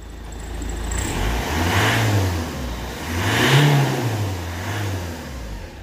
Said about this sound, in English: So if we rev it